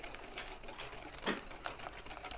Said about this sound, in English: And give that another whisk again.